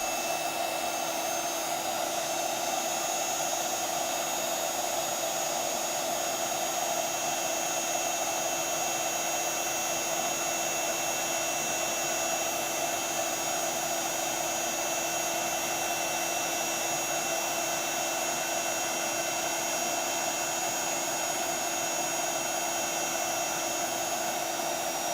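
A heat embossing tool blows hot air over silver sparkle embossing powder sprinkled on a Christmas card, giving a loud, steady whirring hum that runs unbroken from start to finish with no voices.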